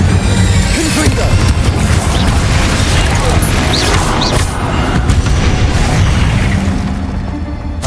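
The Confringo explosive spell cast in Hogwarts Legacy on PC unleashes dense, booming crashes and bursts, layered loudly and continuously over a busy combat soundscape.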